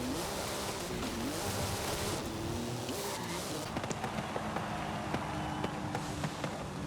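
A car in Forza Horizon 5 built for wheelies drones its engine at a steady pitch with faint tire noise, fairly quiet, with sharp ticks and clicks toward the end.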